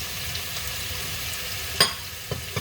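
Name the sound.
bitter melon and onion stir-frying in a pan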